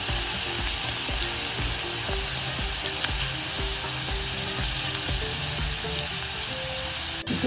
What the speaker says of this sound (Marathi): इकडे ही भेंडी फ्राय होते